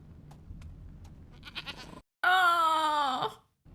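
A goat gives one loud, wavering bleat lasting about a second, near and clear, after a stretch of quieter background noise and faint knocks.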